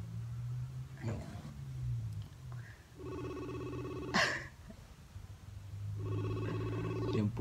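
A phone rings for an outgoing video call on a cracked cellphone, with two clear bursts of a repeating electronic ringtone separated by a pause, near and moderately loud over faint background noise and brief knocks.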